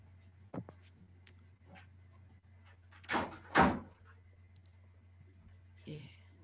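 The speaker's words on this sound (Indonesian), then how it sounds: "Saya tak nutup pintu sih." A door is pushed shut in a room, giving a couple of soft thuds and a slam after faint clicks, against quiet background hum.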